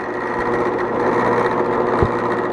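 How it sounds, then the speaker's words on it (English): A steady, high-pitched whir of a small power drill boring a pinhole in metal, running continuously up close, with a faint buzzing edge and a brief bump near the end. "Drill that hole for that pin there."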